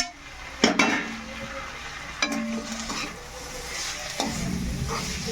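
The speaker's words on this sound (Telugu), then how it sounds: "టమాటా వేసి కలుపుదాం" A spoon stirs chopped tomato into a fenugreek leaf curry in a pan, giving a few scraping, clinking strokes against the metal over a soft, steady sizzle of frying.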